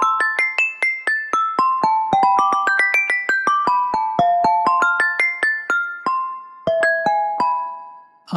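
A synthesized wine glass instrument from a kitchen-themed sample library rings in a quick melodic run of bright, glockenspiel-like struck tones with shimmering overtones, each note decaying briefly, ending with a few sustained pings.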